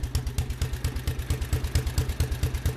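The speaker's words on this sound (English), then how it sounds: "It's a low RPM and it's only getting enough fuel to run on every second compression stroke." Briggs and Stratton six-stroke engine idling at low RPM, firing only on every second compression stroke, a steady, evenly spaced chugging pulse with metallic clatter, close and alone.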